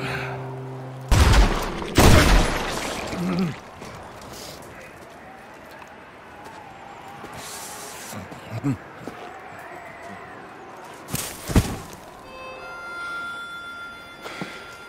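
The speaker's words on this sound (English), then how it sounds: "This moment of Dutch pulling the trigger and walking away" A video game Western scene in which a character fires a gun: two loud, sharp shots near the start, then quieter dialogue and ambient sounds, and a third heavy blast late on.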